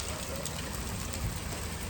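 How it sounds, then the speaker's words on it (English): Hail mixed with rain falls steadily outdoors during a springtime severe thunderstorm, a dense, even patter of ice and drops striking surfaces throughout, with no voices. "Well, it's hailing again."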